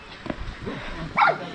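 A dog in a Himalayan village in the Munsiyari region gives a short yip and a whimpering bark, close by, amid a faint low background.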